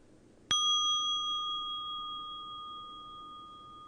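A single meditation bell is struck once, its clear ringing tone hanging and slowly fading in a quiet room.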